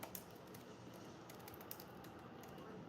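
Keys on a computer keyboard clatter in quick, irregular clicks, close by but fairly quiet, with no voices.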